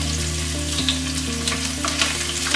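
Crushed garlic and chili pieces fry in hot coconut oil in a pan for garlic chutney, a steady close crackling sizzle with small pops and a low hum underneath.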